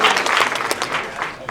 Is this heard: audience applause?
yes